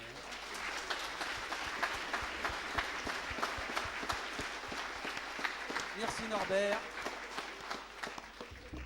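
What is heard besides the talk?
audience applause at a colloquium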